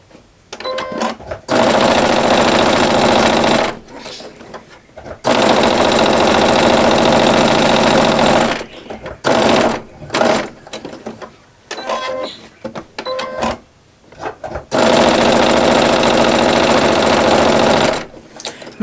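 A sewing machine stitches quilt fabric in three long continuous runs of steady mechanical whirring, broken by short pauses and small clicks as the needle stops and the work is pivoted.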